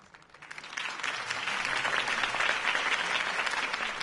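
Crowd applause in the video game Batman: The Telltale Series, swelling quickly from a quiet start into steady, dense clapping that holds for several seconds with no voices over it.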